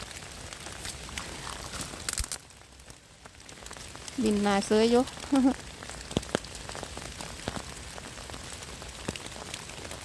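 Rain falls with a steady pattering hiss in a German forest in winter, during mushroom picking. A voice speaks briefly in the middle over the continuous rain.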